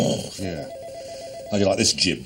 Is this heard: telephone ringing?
yes